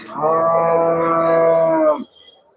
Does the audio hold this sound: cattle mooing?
yes